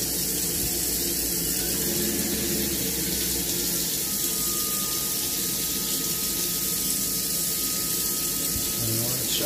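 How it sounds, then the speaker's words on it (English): Hot-side faucet running steadily after descaling a tankless water heater, a continuous broadband water rush filling the whole stretch, with a faint voice briefly underneath. "I'm going to go turn on a faucet here, hot side"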